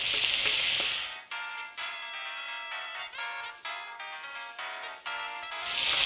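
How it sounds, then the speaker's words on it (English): Loud hiss of filet mignon steak sizzling in a hot pan, fading in the middle behind a steady tonal hum, then surging back at the end. "Now you see it sizzle?"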